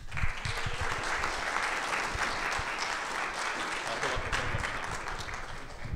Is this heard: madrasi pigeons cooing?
no